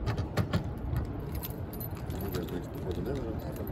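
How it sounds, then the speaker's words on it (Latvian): Car keys jangle and rattle with scattered metallic clinks as they are picked up during preparation work on a car. The jingling is close and lasts a few seconds over a steady background rumble. "rekur Arturs ņem atslēgas"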